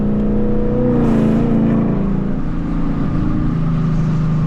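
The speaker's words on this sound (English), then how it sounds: "These downshifts are nasty." A 2024 Ford Mustang GT engine revs sharply on downshifts from inside the car, rising and falling in pitch through a few quick blips, loud and close with no talking.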